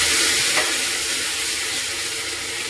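A spice masala with cumin fries in hot oil, giving a loud, steady, close hiss and sizzle that holds throughout with no talking.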